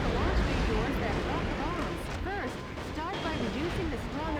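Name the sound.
shotguns firing at and smashing buildings in video game Metal Wolf Chaos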